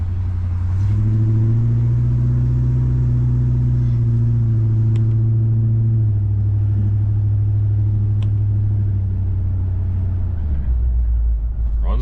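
A 1974 Ford Galaxie engine rumbles steadily from inside the car while driving, a loud, low drone with a slight pitch rise and fall partway through and a heavier burst near the end.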